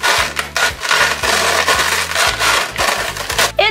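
A Paw Patrol snow cone maker cranked by hand, grinding Cheerios: loud, continuous scraping and crunching with a repeating rhythmic churn, close up and without talk.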